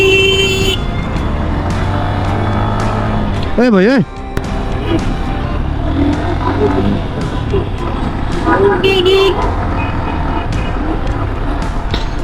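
Heavy traffic jams the street near Jamuna Future Park with continuous engine rumble, a wavering horn blast midway and another short horn later, while a man briefly calls out over the din.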